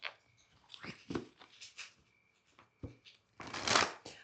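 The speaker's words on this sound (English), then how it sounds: "when I was shuffling for this card here" Tarot cards riffle and slap together in a few quick shuffling bursts, close by, with brief pauses between them.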